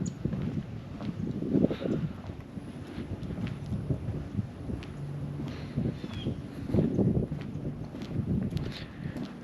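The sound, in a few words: wind blowing in Florida wetlands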